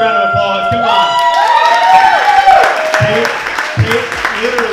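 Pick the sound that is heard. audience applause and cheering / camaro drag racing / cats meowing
audience applause and cheering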